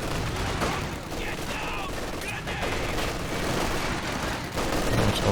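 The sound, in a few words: gunfire and Maxim machine gun in Company of Heroes 2 video game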